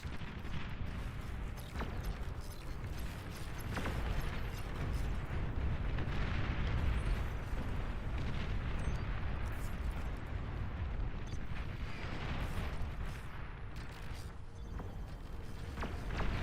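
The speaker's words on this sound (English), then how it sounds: "That's artillery." Video game artillery fire rumbles in the background as a continuous wash of distant booms and bursts, fairly faint and steady throughout with no speech over it.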